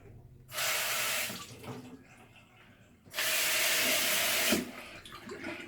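Warm water pouring from a tap during washing, two loud steady bursts of running water separated by a pause, close by with faint background noise.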